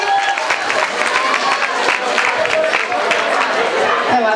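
Applause from an audience at a Christmas concert, many hands clapping loudly with some cheering, while voices and crowd chatter carry on underneath.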